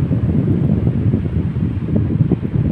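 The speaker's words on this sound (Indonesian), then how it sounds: "kita tes sekali lagi. Alhamdulillah sudah bisa berputar dengan lancar anginnya juga kencang" A Sanex electric fan, just repaired, spins steadily with a dense, continuous low whoosh of moving air and motor drone, close and loud with no talk.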